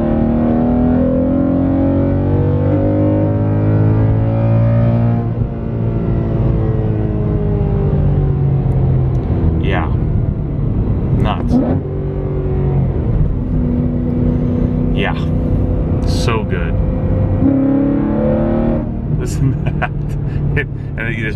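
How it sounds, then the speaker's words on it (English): A car's engine intake roars loudly from inside the cabin as it accelerates through third gear, the pitch climbing steadily with several shifts and throttle lifts along the way. "give you a little sense of what this intake sounds like."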